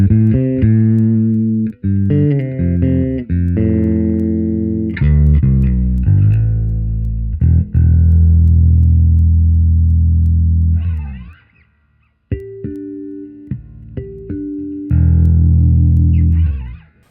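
Bass guitar through a Line 6 Helix Mandarin Bass 200 amp model, loud and gritty with slight distortion, playing a run of punchy notes and sustained chords, then a short silence and a few more picked phrases.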